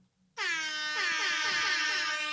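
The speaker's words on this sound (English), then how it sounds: "Air horn." A single loud air horn sound effect blasts after a brief quiet start and holds a bright, steady, brassy tone to the end.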